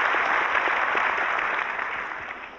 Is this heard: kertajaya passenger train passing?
no